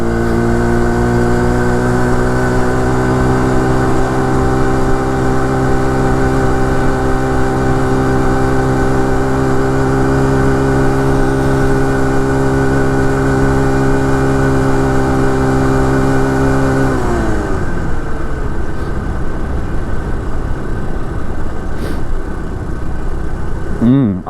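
Air-cooled 49cc four-stroke engine on a motorized bicycle, held at steady throttle with a loud, even buzzing drone for most of the ride, then the pitch drops sharply as the throttle eases and wind noise takes over.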